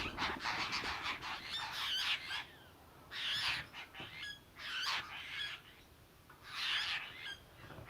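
Birds squawk in repeated harsh bursts, crow-like calls coming in clusters with short pauses between, fairly close but quiet overall.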